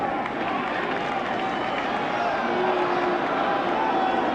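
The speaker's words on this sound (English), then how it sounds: "That crowd really working over McClellan for Roger Clemens." A baseball stadium crowd at a 1998 Athletics at Blue Jays game keeps up a steady, jeering roar aimed at the pitcher, with a commentator talking over the noise.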